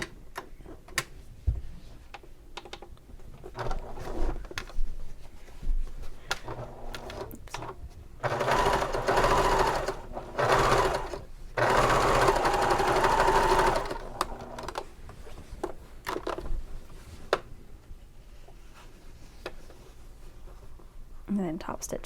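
A sewing machine top stitches along a bag seam allowance in two bursts of fast, steady whirring stitches, separated by quiet moments with small clicks and handling noises.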